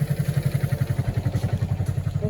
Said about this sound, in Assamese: বাইক এখন আহিছে।